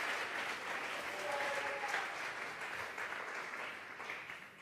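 A church congregation at a Tuesday Bible study claps in sustained applause, a dense, even wash of hands that holds steady for several seconds without anyone speaking.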